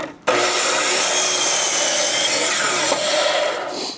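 A wood board cut square for building saw horses, a loud, close continuous saw cut starting abruptly and running steadily for several seconds before tapering off.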